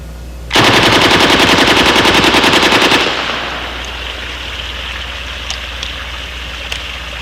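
An Israeli Uzi submachine gun fires one long, rapid, very loud automatic burst of about two and a half seconds, then stops, leaving a fading rumble and a few faint clicks.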